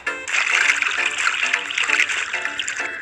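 Ordinary tap water pours steadily onto a green tea bag, a continuous close trickling and splashing stream lasting the whole stretch.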